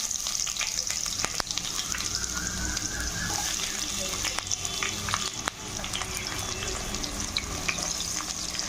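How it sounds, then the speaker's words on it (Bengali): Onions frying in oil in a wok, with bay leaves added, for a goat trotters curry; a steady sizzle runs throughout at close range with occasional stirring clicks. "পেঁয়াজটা লাল করে ভেজে নেবো"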